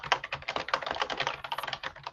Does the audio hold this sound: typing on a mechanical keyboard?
yes